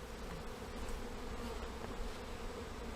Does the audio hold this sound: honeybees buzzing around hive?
yes